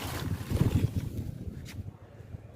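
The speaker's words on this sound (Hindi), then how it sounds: "इतनी तेज़ हवा चल रही है" Strong wind blowing through a vegetable garden of eggplant, okra and bean plants outdoors, a steady broadband rush with low buffeting gusts on the microphone, loudest early and easing off, with no voices.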